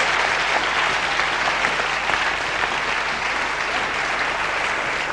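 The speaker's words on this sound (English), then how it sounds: "Give him a round of applause, please." A theatre audience at a Julian Clary comedy show in Newport Pagnell gives a sustained, dense round of applause, steady and fairly loud, with no voices standing out above it.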